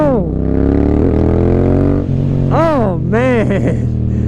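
Yamaha MT-07 with its CP2 parallel-twin engine idles with a deep, throbbing rumble, then revs up in several quick rising and falling blips, close and loud, with a voice briefly heard over it.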